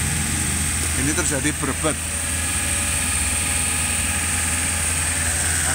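Suzuki APV engine revving, a steady loud drone with a low hum and a brief rise in pitch early on, while someone speaks over it near the start.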